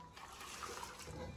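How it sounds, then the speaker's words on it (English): Boiling water being poured over catfish in a kitchen as pepper soup is prepared, a close, soft, continuous gushing and splashing of liquid that runs steadily for a moment, quiet and without talk. "So I have my hot water boiling, so I'm just gonna transfer it to the fish."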